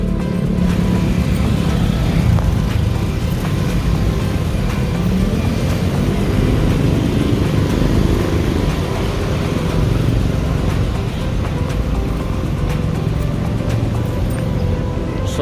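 Steady roar of city road traffic on the Hibao-an flyover in Iloilo, with continuous engine and tire noise from passing cars and motorcycles, dense and close throughout.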